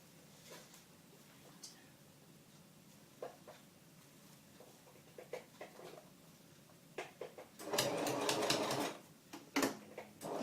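A sewing machine stitches underquilt fabric in short bursts, with a longer loud run of rapid mechanical chatter near the end, close by in a quiet room.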